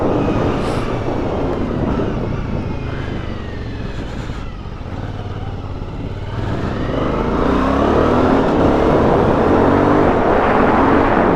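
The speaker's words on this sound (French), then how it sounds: "J'adore ces motos où dès que tu accélères, ça te donne un grand sourire." A small, punchy motorcycle accelerates hard with its engine revving loudly and steadily close by, building in intensity toward the end, with wind roar mixed in.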